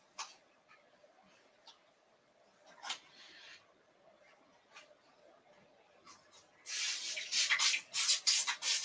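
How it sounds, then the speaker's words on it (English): Magic spray misted onto fabric during a sewing session, heard as a quick run of close, hissing spritzes near the end after a few faint earlier puffs and rustles. "we just hit that with some magic spray"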